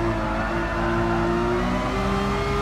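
A Ferrari car engine in the Gran Turismo Sport racing game, during a Ferrari-only La Festa Cavallino league race, revs loud and close with a smooth, slowly rising engine note, steady throughout with no talking.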